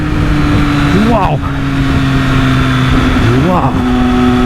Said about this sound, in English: Oh, that sound just gets better and better as the revs climb.